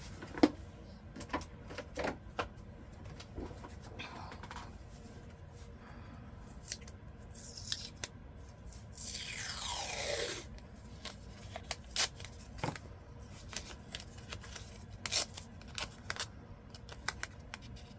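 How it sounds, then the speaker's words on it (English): A piece of tape torn from a roll at a craft table: scattered small clicks and handling taps, then a drawn-out sticky peeling rip near the middle, close and moderately loud with no talking. "Okay, I'm going to get a piece of tape."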